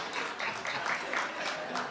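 A studio audience claps in a brief, fairly faint burst of applause, with scattered hand claps continuing over the short stretch.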